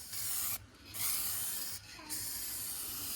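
Aerosol spray paint applied to a Ford Focus RS car part, a close steady hiss in three long bursts separated by brief pauses, with no talking.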